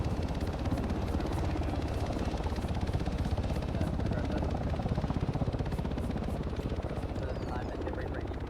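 A Little Bird helicopter in the military game Arma 3 flies with a steady, fast rotor chop and engine whine, loud and continuous, while a voice talks over it.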